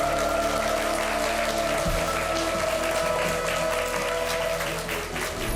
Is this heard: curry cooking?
no